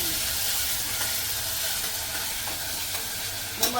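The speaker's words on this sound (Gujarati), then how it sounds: "તો કુકરની અંદર કાંદા ટમેટા બી નખાઈ ગયા છે. હવે એને સારી રીતના સોટે કરી લેવાનું." Onion and tomato sizzling steadily as they sauté in a pressure cooker, a close, continuous frying hiss with a few light scrapes of stirring near the end.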